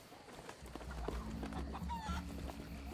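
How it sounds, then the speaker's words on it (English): Chickens in Sea of Thieves clucking softly, a few short irregular clucks over a low background rumble, fairly quiet and not close, with no one speaking. "There was a golden chicken here, somewhere."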